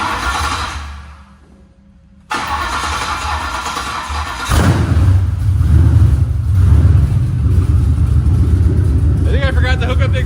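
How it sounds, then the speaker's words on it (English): A Crown Victoria police car engine, freshly swapped and running with open headers and no exhaust, starts after a brief quiet gap, then settles into a loud, rough, raw idle up close; voices briefly break in near the end. "I think I forgot to hook up the exhaust."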